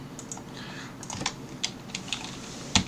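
Fingers tap at a computer keyboard in short irregular bursts, soft clicks with a sharper keystroke near the end, close by and with no talking.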